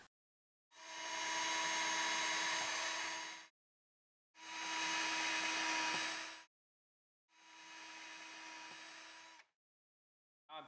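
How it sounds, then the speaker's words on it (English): A small power drill whirs in three separate bursts of a few seconds each, steady and high-pitched, with short silences between, drilling 1/16-inch pilot holes into soft wood. "I'm going to start off by drilling some 1/16-inch pilot holes."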